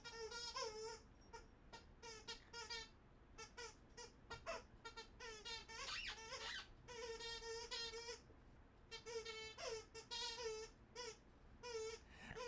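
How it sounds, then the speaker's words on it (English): A dog squeaks a squeaky toy over and over in quick bursts of shrill, harmonic squeals as it runs around, loud and close, with brief gaps between bursts. "As he runs around squeaking that toy."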